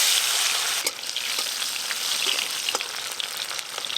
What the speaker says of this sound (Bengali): টমেটো কুচি একটু ভাজা ভাজা হয়ে গেছে।